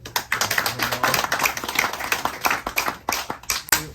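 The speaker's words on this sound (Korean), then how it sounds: "다시 한번 박수 한번 보내주세요" An audience at a training session for environmental field workers claps for a speaker, a close, lively patter of many hands with almost no talk over it.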